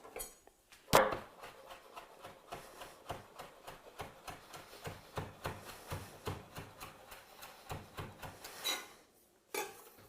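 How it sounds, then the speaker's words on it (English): Fresh dill chopped coarsely on a cutting board, a steady run of close, crisp knife taps with a few louder clacks, some brief utensil clinks at the start and near the end. "Feel free to cut it a bit coarser so we can really taste the dill."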